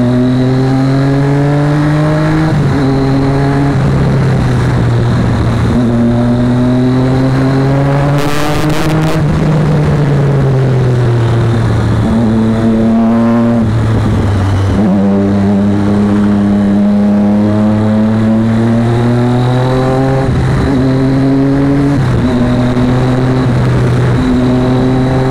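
A Triumph Daytona 675 motorcycle fitted with a Yoshimura slip-on exhaust revs hard and repeatedly, its engine note climbing and falling in loud close blips with brief drops between them.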